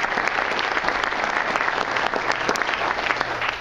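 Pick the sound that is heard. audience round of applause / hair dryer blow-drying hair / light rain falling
audience round of applause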